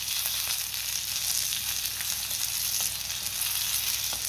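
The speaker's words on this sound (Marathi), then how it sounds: "मिरची चांगली तेलावरती परतून घ्यायची आहे" Green chillies sauté in hot oil for a spicy pea kharda, giving a steady, close sizzle and crackle throughout with small pops and no voices.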